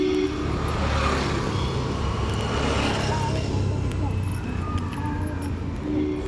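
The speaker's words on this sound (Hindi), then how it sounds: "अभी गाड़ी आ रहा है" A car approaching on a road, heard as a steady broadband traffic rumble throughout while people talk over it nearby.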